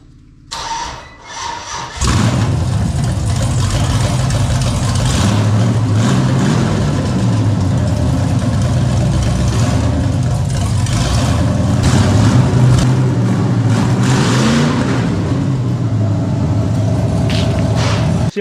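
An LS-swapped Ford LTD Crown Victoria 2-door with a manual transmission cranks and fires up, then settles into a loud, steady, rumbling idle close by that continues throughout.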